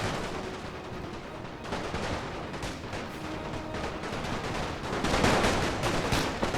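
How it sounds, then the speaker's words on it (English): Artillery guns and massed gunfire in a Napoleon: Total War battle with The Great War mod, heard as a dense, continuous stream of overlapping shots and booms that swells louder near the end, with no talking. "So my hope is to get the artillery guns to actually do something."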